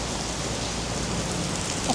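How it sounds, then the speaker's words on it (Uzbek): Steady rain pours onto a street in Kuala Lumpur, a dense, even hiss of drops on pavement filling the space continuously at close range with no talking. "Hozir ko'chada yomg'ir quyuyoqda, hozir ko'rasizlar."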